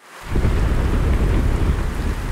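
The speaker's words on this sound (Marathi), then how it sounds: "खूप जोरात पाऊस पडू लागला" Heavy rain pours down on a hillside, a loud dense continuous roar with deep rumbling underneath, starting abruptly and holding steady throughout.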